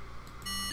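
A short electronic beep from a door display in the video game 999, a steady bright tone with harmonics sounding alone near the end after quiet.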